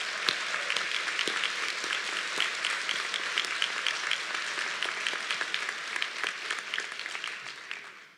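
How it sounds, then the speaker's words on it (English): Audience applause at a high school graduation ceremony, a dense, even wash of many hands clapping that holds steady for several seconds before tapering off at the end. "Please help me give a round of applause to the people behind the scenes"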